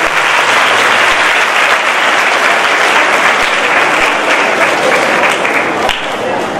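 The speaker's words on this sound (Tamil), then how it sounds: "பலத்த கரகோஷத்தை கொடுப்போம்" Sustained applause from an audience at a public event honouring guests, a dense steady wash of clapping that stays loud and continuous throughout, with faint crowd murmur beneath.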